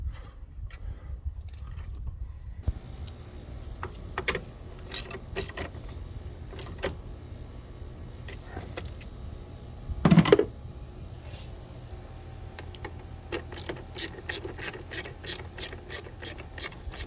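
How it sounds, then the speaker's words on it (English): A ratchet wrench turns a bolt on a 2013 Dodge Dart 1.4L engine during an engine and transmission swap. It gives scattered clicks, then a fast, even run of close ratcheting near the end. "Just reach on here with a ratchet wrench"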